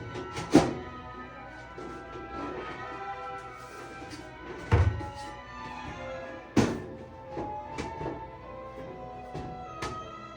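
Metal parts of a two-drawer steel cabinet are banged into place during assembly, a few sharp, ringing knocks spaced several seconds apart, with lighter taps and handling noise between them, close and fairly loud.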